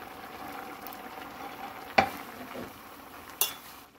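Soft sizzling and frying of sweet potato stems with perilla seed powder and green onion in a pan, with two sharp clinks of a utensil against metal, no voices.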